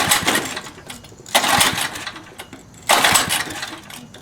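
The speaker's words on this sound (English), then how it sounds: "let's see what happens here, if it'll even fire up" Someone tries repeatedly to start the engine of a 1972 Sears rototiller. Three bursts of sputtering engine noise rise and fade, with quieter mechanical rattling between the pulls.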